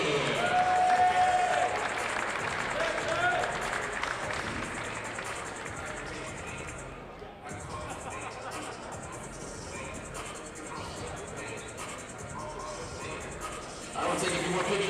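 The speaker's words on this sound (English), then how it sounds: "One more round of applause for our Chapman men's basketball class of 2025." A crowd at a men's college basketball game breaks into loud, sustained applause and cheering that gradually thins and settles, then swells again near the end.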